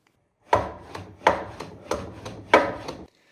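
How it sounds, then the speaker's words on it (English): Hand plane shaving end grain of a wooden board on a shooting board, six crisp rasping strokes in an uneven rhythm, close and clear with quiet gaps between. "Then I'm going to take a few shavings off that front corner until I get to my line."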